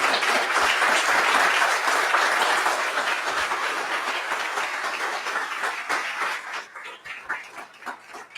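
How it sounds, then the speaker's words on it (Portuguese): Church congregation applauding at an evening worship service, a dense wash of clapping that starts loud and gradually thins and fades toward the end. "Dê um aplauso bem dado a Jesus."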